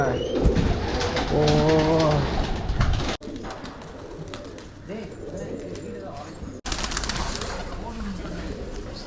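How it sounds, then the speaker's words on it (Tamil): A flock of pigeons coos in a rooftop loft, soft repeated throaty calls close by, mixed with fluttering and general background noise, with someone speaking over parts of it. "இவ்வளோ புறா குரூப் இருக்கு"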